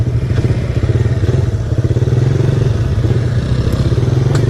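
A carbureted Suzuki Raider 150 motorcycle runs at top speed, its engine droning loudly and steadily with a fast, pulsing buzz and wind rush throughout.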